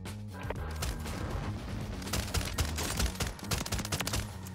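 Rapid bursts of RAAL LMG machine gun fire in Warzone, loud, close automatic shots rattling in dense strings with short gaps, layered over game music and effects.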